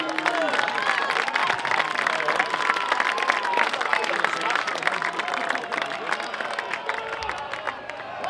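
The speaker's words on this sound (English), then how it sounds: "The crowd shouting encouragement." A cricket match crowd clapping and calling out encouragement, a dense, continuous wash of applause and voices at close range with individual shouts rising above it throughout.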